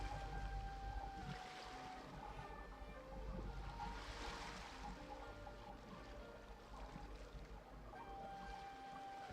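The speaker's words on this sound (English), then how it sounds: "Go to where you can hear the sound of the waves." Ocean waves wash softly in the Genshin Impact video game, a gentle continuous surf with light wind, faint and steady, with a few soft tonal notes.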